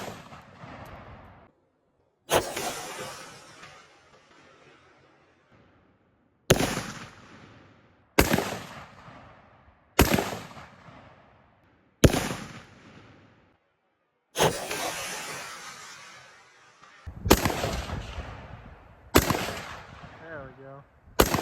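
Sharp gunshots fire one at a time at pumpkins set up to explode outdoors. Nine loud cracks come at uneven intervals a second or more apart, and each one rings out and decays into echo.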